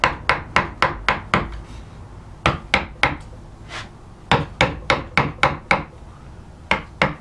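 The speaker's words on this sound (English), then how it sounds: "And for this I'm using the mallet and just coming right to either that incised bit or the V2 lines like that." Mallet driving a shallow half-inch carving gouge into wood while carving decorated S scrolls, sharp woody knocks in quick bursts of several strikes separated by short pauses, close and clear.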